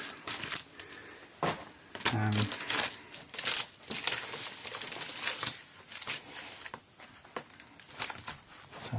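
Paper from an old envelope being handled and crinkled while working on a red Sunn Mustang Strat guitar, irregular close rustling and crackling bursts interspersed with someone talking.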